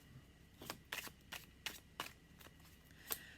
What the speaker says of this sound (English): I'm shuffling on my table and it's jiggling my screen